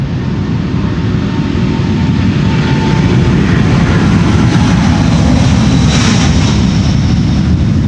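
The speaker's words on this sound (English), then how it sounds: "And there is a 747 for Cathay Pacific in the background. It's coming in." A Cathay Pacific Boeing 747 arriving at Amsterdam Schiphol airport, a loud steady jet roar that swells slightly as it passes, broad rushing engine noise with a rising whine, no voices.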